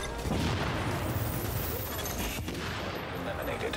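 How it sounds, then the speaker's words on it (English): Mortar and gunfire in S.T.A.L.K.E.R.: Clear Sky, a loud continuous barrage of blasts and shots with speech underneath. "Mortars are going to kill you."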